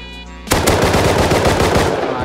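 Rapid automatic gunfire in the survival game Rust, a sudden loud burst of fast repeated shots that keeps hammering for about two seconds after a quieter lead-in, close and dense.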